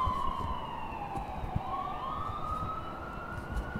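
A wailing siren rises and falls in pitch over a rumbling traffic background, steady and moderately distant.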